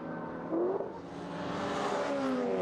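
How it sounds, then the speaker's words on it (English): Classic saloon race cars pass close by one after another, engines droning and shifting pitch as they sweep past, with a steady roar that builds toward the end. "Let's listen to these cars as well."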